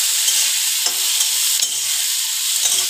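Halved green chillies are stirred in a hot pan with a little oil over a low flame, giving a constant close sizzle broken by a few sharp scrapes of the spoon, with no speech.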